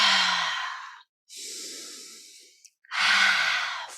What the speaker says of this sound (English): Inhale deep. Exhale completely.